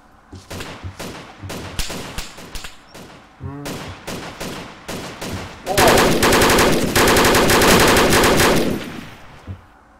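Machine gun fire in the video game DayZ: several short bursts of rapid shots, then a long sustained loud burst lasting a few seconds before fading out.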